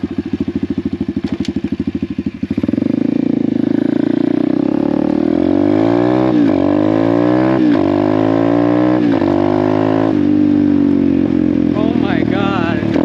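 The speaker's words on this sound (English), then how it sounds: "All it takes is a carb to get these things running again." Pit bike engine with a freshly replaced carburetor idles with a rapid putter, then revs repeatedly in sharp, snappy bursts that rise and fall, close and loud, with a voice briefly heard near the end.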